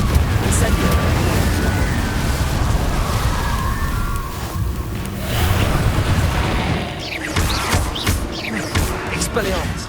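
Fire and blast spells such as Confringo and Incendio go off in Hogwarts Legacy as a dense, continuous run of booms and crackling bursts, with a voice calling out over the noise.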